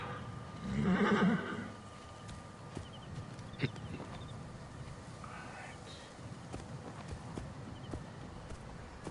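A horse in a video game whinnies once near the start, a loud drawn-out neigh, followed by quieter ambient noise and a few faint clicks.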